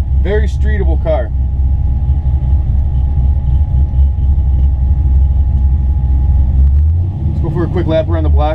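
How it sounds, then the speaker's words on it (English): A 1965 Chevrolet Chevelle engine with a mild cam idles with a low, steady rumble and a slight lumpy thump, with voices talking briefly at the start and again near the end. "That mild cam is just thumping just a little bit."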